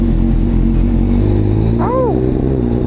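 Honda CBR1000RR-R Fireblade superbike engine running close by with a steady, deep mechanical rumble, a brief rising-and-falling whine cutting in near the end.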